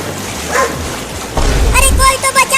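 A cartoon dog drowning in water gives a few short, high yips and whimpers amid voiced, excited cartoon sounds, loud and close.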